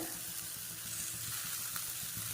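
Drumstick leaves drop into hot oil for a murungai keerai kuzhambu and sizzle steadily, a close crackling hiss with faint stirring, and no one speaking.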